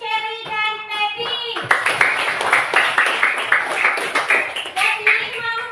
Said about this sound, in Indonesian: beri aplaus dulu untuk Cherry dan Baby